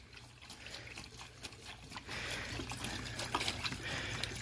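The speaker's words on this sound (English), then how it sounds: "So you just basically rinse them out." Catalytic converter parts are rinsed with water in a bucket, making faint sloshing and trickling that grows somewhat louder partway through, close by, with no talking.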